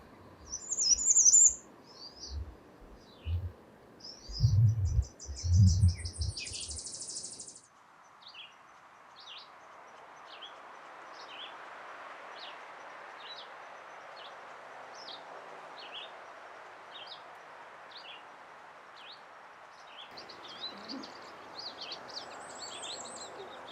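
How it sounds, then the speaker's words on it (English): Pine siskins courting alongside blue-headed and red-eyed vireos, with a dense chorus of chirps and trills at close range, louder busy calls early on and then a steady, continuous twittering with no one talking. "Pine siskins courting, blue-headed and red-eyed vireos, making lots of noise."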